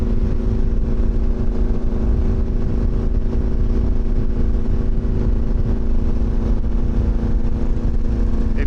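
Yamaha XTZ 750 motorcycle riding through mountain gorges, a steady, loud engine drone with wind rush that holds evenly throughout without pauses.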